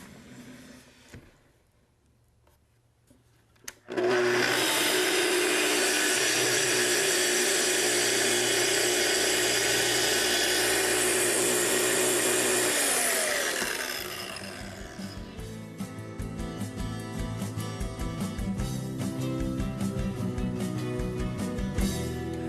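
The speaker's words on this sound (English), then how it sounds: "Set up, we'll plug our saw back in," A Festool TS tracksaw with a vacuum attached rips through wood: a quiet pause, then a loud sustained cutting whine for about ten seconds that fades into a lighter rasping run-down and scraping.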